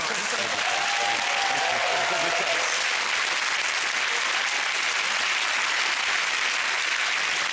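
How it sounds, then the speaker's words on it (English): A large TV studio audience applauds steadily and loudly throughout, a dense wash of clapping with a brief voice audible early on. "Your round of applause, Sean Wallace, everyone."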